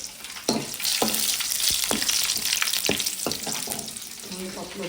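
Dried curry leaves and garlic are tempered in hot oil for dal, giving a close, steady sizzle with sharp crackles and occasional stirring clicks and no talk.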